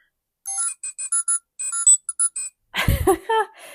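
A Bath & Body Works hand sanitizer holder plays a string of short, bright electronic beeps like a little computer, close and clear, followed by a burst of talking at the end.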